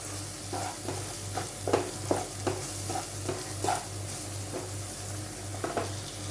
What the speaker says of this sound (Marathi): हे मसाले सुद्धा व्यवस्थित तेलामध्ये आपल्याला फ्राय करून घ्यायचे